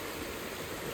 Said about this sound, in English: it's been pouring down rain